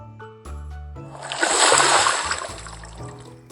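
A splash into stream water as a mouse falls in, a bright spray of sloshing water rising then fading, set between gentle musical tones with no talk.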